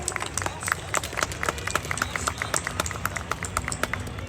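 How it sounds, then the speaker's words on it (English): An audience at a live Mortal Kombat panel event applauds, a dense, steady patter of many hands clapping that holds at an even level throughout. "Give these guys a big round of applause."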